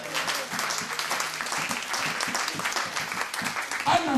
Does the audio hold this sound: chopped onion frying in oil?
no